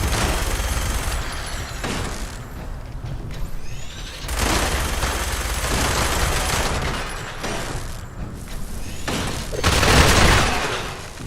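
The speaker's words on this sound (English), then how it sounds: "Bullets." Gunfire in the video game Fallout 76 during a raid boss fight, dense bursts of rapid shots and booms in several loud waves over about eleven seconds, no talking.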